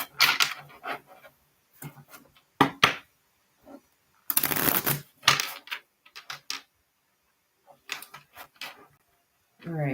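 Tarot cards shuffled by hand in a series of short papery riffles and snaps, close and fairly quiet, with gaps of silence between bursts.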